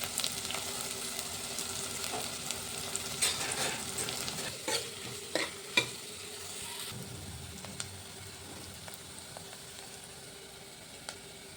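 Onions, green chillies and curry leaves with tempering spices fry in hot oil for an eleven-second, close, steady sizzle, broken by scraping stirs, with no talking.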